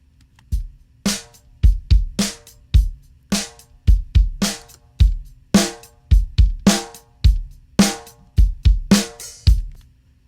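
Drum mix with a parallel bus driven by Sheps saturation and compression, for a rock song production: a steady, punchy kick-and-snare groove with bright, heavily compressed hits repeating evenly throughout, loud and alone.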